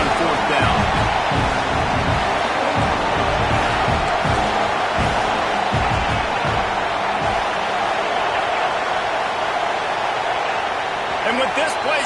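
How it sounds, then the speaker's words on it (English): Loud, steady roar of a packed stadium crowd at a football game between the Bucks and Tigers, a dense wall of cheering and babble holding at full volume throughout. "with this place rocking, the crowd forces a false start"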